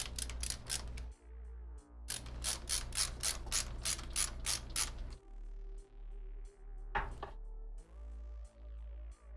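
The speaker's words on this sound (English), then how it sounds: "Get this last bolt in. Then we'll tighten them all down across the board." A ratchet clicks in fast close runs while tightening bolts on a computer case, pausing briefly between strokes and then ticking again in slower, steady clusters.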